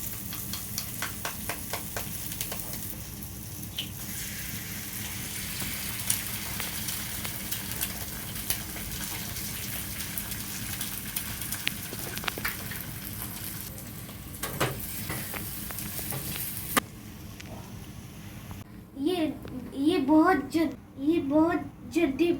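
Eggs sizzle and crackle steadily in a pan for anda bhurji, with occasional stirring scrapes; the frying dips near the end as voices, including a child's, break in.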